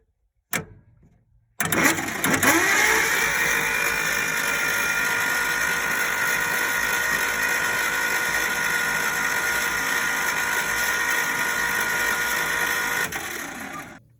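A 1956 Dodge H6 diesel engine, revived after twenty years, cranked by a starter solenoid jumped with a screwdriver: a brief click, then a loud, steady, rapid mechanical cranking churn that runs for about twelve seconds before stopping.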